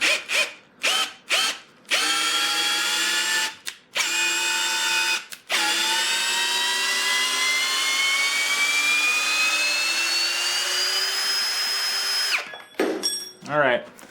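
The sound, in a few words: Ridgid brushless hammer drill running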